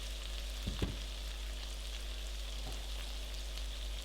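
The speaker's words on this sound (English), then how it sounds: "just nicely stirring them around, making sure they're all coated and cooked" Corned beef hash ingredients fry in a pan with a constant even sizzle over a low hum, while a couple of soft scraping knocks mark the stirring.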